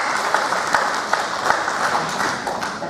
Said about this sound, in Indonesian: Terima kasih atas tepuk tangan.